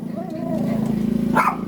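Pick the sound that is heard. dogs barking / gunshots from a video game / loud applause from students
dogs barking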